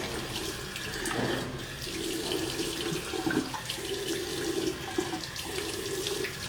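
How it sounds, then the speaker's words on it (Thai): Tap water running steadily into a sink while a face is rinsed, a continuous splashing rush with uneven gurgles as hands break the stream, close and alone without talk. "ขั้นต่อไปเราจะล้างน้ำออกค่ะ"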